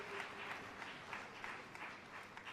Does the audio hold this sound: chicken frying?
no